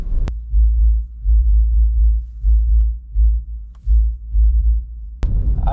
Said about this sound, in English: I don't know how well you could hear that bumping, but that was from 2 cars behind me.